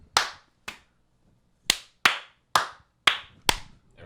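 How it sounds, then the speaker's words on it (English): Single sharp hand claps made to sync a recording, seven crisp separate cracks spaced irregularly across the clip, close and loud with silence between them. "Let's get a good clap."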